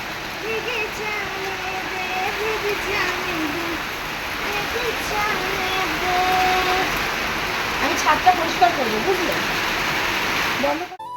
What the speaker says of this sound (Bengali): ভীষণ জোরে আর কি বৃষ্টিও নেমেছে